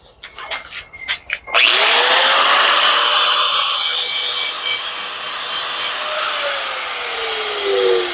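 A power grinder bites into stainless steel parts from a marine air-conditioning unit, loud and close, with a shrill sustained whine and a falling pitch sweep after a few scattered scrapes and knocks.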